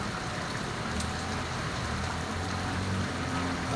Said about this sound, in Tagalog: patuloy pa rin yung ulan dito sa amin